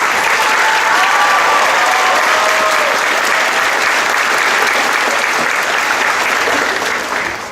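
Loud, dense applause from an audience at a spring 2018 nursing pinning ceremony, honouring the graduates with a steady wash of many hands clapping that holds strong throughout and eases slightly at the very end.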